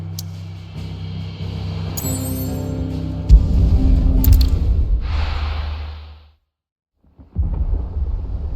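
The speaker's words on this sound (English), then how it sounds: "Sounds like thunder." Deep rolling thunder in Final Fantasy XVI builds into a loud, sustained low rumble with a sharp crack partway through, fades out to near silence, then swells back in strongly.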